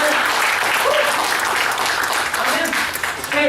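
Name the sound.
congregation clapping in church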